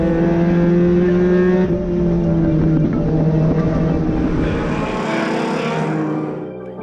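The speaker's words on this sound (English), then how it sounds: "there's a real variety of club racing cars on track" Club racing cars roar around a circuit in a steady, loud blend of engines that shifts in pitch as cars pass, with the engine note fading slightly toward the end.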